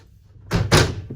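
A sliding pocket door inside the living quarters of a 2023 Merhow Stampede 8314-B three-horse trailer, one short rolling rumble ending in two close thumps as it stops, heard alone.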